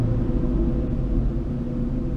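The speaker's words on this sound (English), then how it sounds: "Idle with the cutouts closed." A 2001 Ford Mustang Bullitt GT V8 idles with exhaust cutouts closed: a deep, steady exhaust rumble, close and constant with a slightly lumpy low throb.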